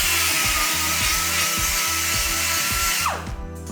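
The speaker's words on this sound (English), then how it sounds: "I'm using a die grinder here with a cutting bit" Die grinder with a cutting bit clearancing a Jeep TJ headlight bucket, a loud continuous high whine with rhythmic bogging pulses as the bit bites into the material, cutting off abruptly near the end.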